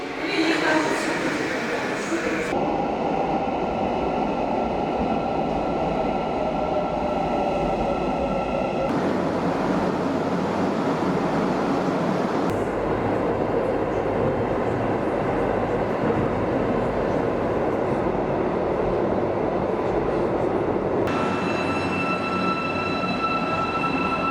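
A subway train in Almaty, Kazakhstan riding along, a steady loud rumble of wheels and carriage noise with faint tonal whines shifting throughout, no pauses.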